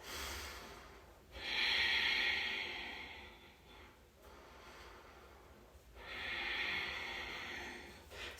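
Slow, deep breathing held through a yoga pose: two long, loud hissing exhales through the nose, each several seconds, with quieter inhales between them, close to the microphone.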